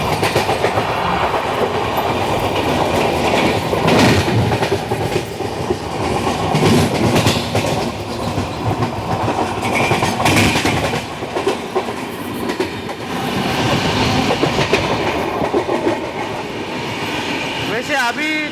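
The Gitanjali SF Express from Mumbai to Howrah runs at speed, heard from inside a coach with loud, continuous rumble and rhythmic clickety-clack over rail joints, a brief wheel squeal near the end, and a voice talking at times.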